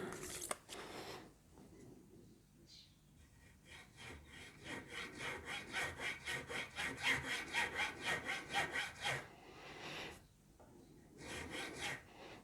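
Cutting string slots into a bone top nut for a Rickenbacker 620/12 twelve-string guitar: a fine rasping file saws in a rapid, steady back-and-forth rhythm with short pauses, close and fairly quiet.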